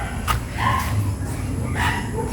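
A dog barks and yips a few times in the distance on an evening in a rural backyard, with short, separate calls over faint background noise.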